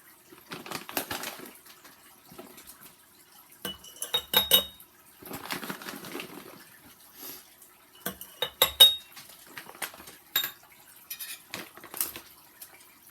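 A spoon scrapes and clinks against a bowl while stirring oatmeal mixed with blueberries, in uneven bursts of close, fairly loud clattering separated by short pauses.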